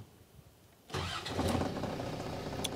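A Land Rover TD5 diesel engine cranks and fires at close range, settling into a loud, steady rumbling idle with no talk over it.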